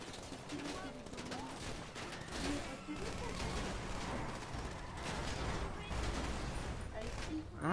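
Video game gunfire aimed at the player: a dense, continuous fusillade of rapid shots and bursts, loud and close, running steadily with background game noise throughout.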